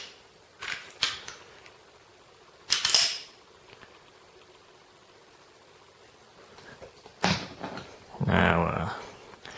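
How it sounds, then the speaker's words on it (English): Springfield Armory TRP Operator 1911 pistol being taken apart, slide stop popped out and slide pushed forward: a few short metallic clicks and scrapes close up, separated by quiet pauses, with someone talking between them. "Pop the slide stop out. Push the slide forward."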